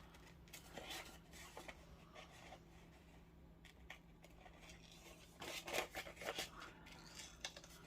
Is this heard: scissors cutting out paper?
yes